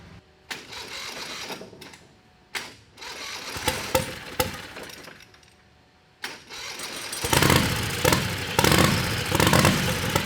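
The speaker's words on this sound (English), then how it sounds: "we're going to go ahead and fire this thing up" A turbocharged 670 V-twin engine, running rich, cranks in short bursts with pauses between, sputters, then catches and runs loudly with a rough, rattling roar.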